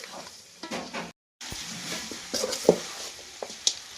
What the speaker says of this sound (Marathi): मी या मटान चांगला परतून घेतलं.